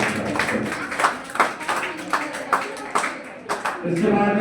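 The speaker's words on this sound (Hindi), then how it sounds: "जोरदार तालियां हो गया।" Students in a coaching class clap loudly in a burst of several sharp, uneven claps, with voices and room noise around them.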